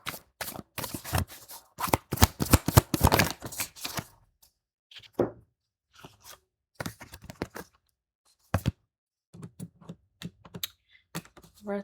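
Tarot cards being shuffled by hand, with a dense run of quick riffling flicks followed by scattered sparse taps and slides, close and fairly quiet, with no talking.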